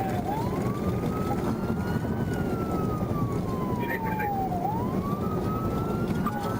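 A police siren wails during a high-speed chase, rising and falling in long slow sweeps, heard at moderate distance over steady road noise.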